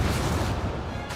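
The Incendio fire spell cast in Hogwarts Legacy, a dense, loud whooshing roar of flame with a booming low rumble that fills the whole short moment and fades slightly at the end.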